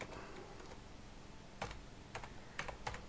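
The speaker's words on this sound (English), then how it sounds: "we're just going to type in Skype" Computer keyboard typing a single short word: a few scattered, crisp keystrokes close by, separated by brief pauses, over quiet room noise with no talking.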